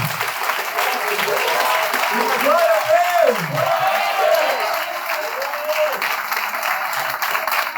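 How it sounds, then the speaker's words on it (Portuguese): Congregation applauding at a Portuguese-language church service, a steady dense wash of clapping throughout while a preacher's voice calls out over it. "Se você crê, aplauda esse Deus."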